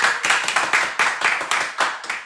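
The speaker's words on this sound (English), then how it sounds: "Let's give them a round of applause." A small group claps in a quick, fairly regular rhythm for frontline workers on a live weekly show, each clap distinct and close, with no talk over it.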